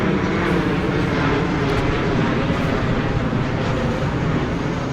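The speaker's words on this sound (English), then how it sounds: "Sorry, another plane." A fixed-wing airplane passes overhead with a steady, loud broadband roar that holds constant through the whole stretch, with no talking over it.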